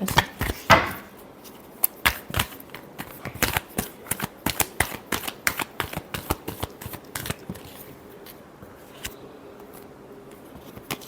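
Tarot cards shuffled close up during a weekly reading, a quick run of crisp, evenly spaced slaps and riffles that thins out toward the end, alone with no talk.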